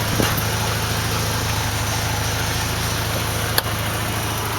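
A car engine idles with a low, steady hum, close by, with a single sharp click partway through.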